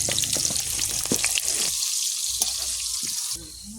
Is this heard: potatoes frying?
yes